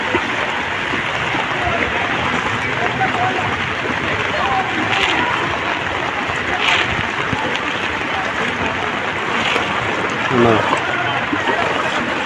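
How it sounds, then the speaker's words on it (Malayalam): Floodwater in Kondotty pours in steadily at its main inflow point beside a pump and a Maruti Suzuki showroom, a loud, continuous rushing wash that holds throughout the clip. "ശരിക്ക് വെള്ളം വന്ന് കയറുന്ന മെയിൻ സ്ഥലമാണിത് ഇവിടാണ് ശരിക്ക് വെള്ളം വന്ന് ചാടുന്നത്"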